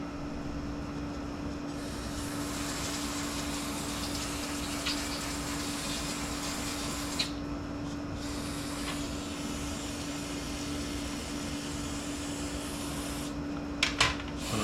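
Carb cleaner hisses in a long, steady aerosol spray over Aida Express lantern parts. It runs close and continuous, with a few short breaks and clicks near the end.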